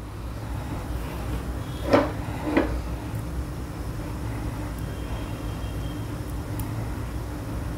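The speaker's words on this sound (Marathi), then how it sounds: "टोस्टर बंद करूया आणि त्याला हे लॉक लावूया" Two sharp metallic clicks about half a second apart as a stovetop toaster is shut and latched in a home kitchen by a gas stove, set against a steady low background hum.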